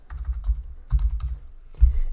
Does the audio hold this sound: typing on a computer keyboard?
yes